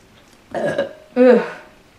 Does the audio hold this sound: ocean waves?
no